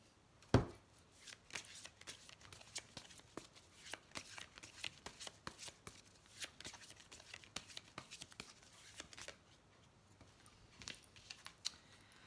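Oracle cards being shuffled by hand, a long run of quick papery riffles and soft slaps with one sharper knock near the start, close and moderately loud, no voices.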